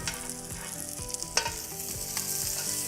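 Cajun-seasoned cod fillets frying in a pan, a steady close sizzle with crackling pops and faint spatula scrapes, no voices.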